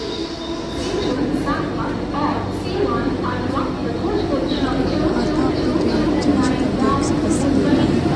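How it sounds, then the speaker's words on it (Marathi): Busy platform ambience at Thane railway station, India: a train's low rumble and rolling wheels, with murmuring voices and occasional squeaks in the background. "ठाणे स्टेशनला पोचलो आता आम्ही."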